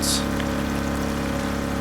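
In the DrainSim video game, a pump sucks up water pouring from a drain in a steady, continuous rushing hum with a droning mechanical tone, with a brief hiss at the start and a voice over it.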